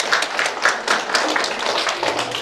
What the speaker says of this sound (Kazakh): Даянаға да қол шапалақтап қойып.